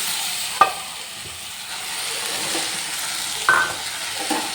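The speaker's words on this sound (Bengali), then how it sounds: "এরপর আমি ভেজে রাখা আলু আর সয়াবিনগুলো এক একে দিয়ে দিচ্ছি" Fried potatoes and soybean chunks go into a pan of spiced masala, setting off a steady close sizzle, punctuated by a couple of sharp utensil clinks against the pan.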